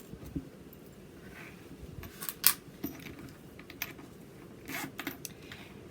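Sewing pins are pulled out of a zipper pinned onto a knitted bag, giving scattered, quiet metallic clicks and ticks close up, with a brief brighter clink partway through.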